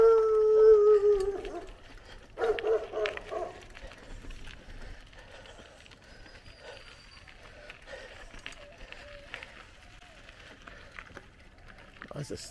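Several dogs outside a gate in Bullet Tree Falls, Belize, howl and bark loudly at first, then fade to scattered quieter yelps and barks under a voice.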